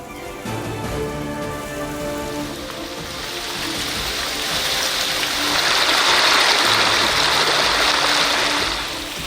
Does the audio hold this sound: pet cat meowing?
no